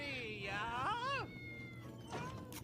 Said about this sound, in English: That's a lot of freaking cats.